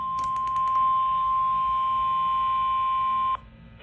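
Emergency Alert System warning tones for a marine weather warning: a burst of sharp digital data squawks, then a long, loud, steady two-tone attention signal lasting about three seconds before cutting off abruptly.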